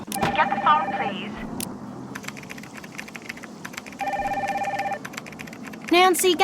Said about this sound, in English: Get the phone, please.